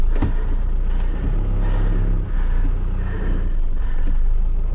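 Old tow truck engine idling steadily with the PTO engaged, a loud, close, continuous low rumble that dips slightly as the throttle is eased down, with no talking.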